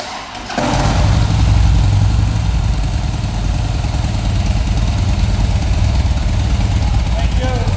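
Motorcycle engines idle at a crowded bike meet, a loud, steady rumble that holds throughout while people talk over it.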